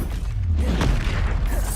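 Expulso curse explosion in the Hogwarts Legacy video game: a loud, sustained booming blast with a rumbling body and a bright crackling burst partway through, with no voices.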